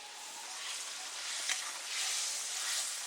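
Tomato with dried red chilli, coriander, cumin, ginger, garlic and turmeric sizzling in hot oil, a loud, steady, close-up hiss that swells slightly near the end, with no voices.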